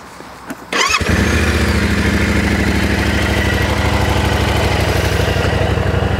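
A 2020 Yamaha Ténéré 700 motorcycle engine cranks and fires up, then settles into a loud, steady, throbbing idle close by.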